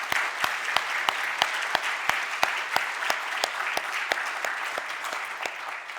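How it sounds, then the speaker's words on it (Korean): A church congregation gives steady, sustained applause honoring a Korean War veteran elder, a dense patter of many hands clapping throughout with sharp individual claps standing out, no talking over it. "한번 박수로"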